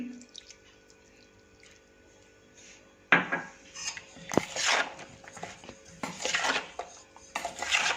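Green turmeric pickle with lemon juice being stirred in a bowl, a spoon clinking and scraping against the sides in irregular bursts after a quiet start.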